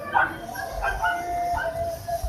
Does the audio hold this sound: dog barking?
yes